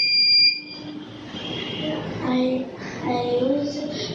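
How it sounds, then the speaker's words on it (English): A homemade burglar alarm buzzer triggered by an IR sensor gives a brief high-pitched electronic beep at the start, then faint tones continue under someone talking. "if someone came inside, IR sensor will detect and it will buzz"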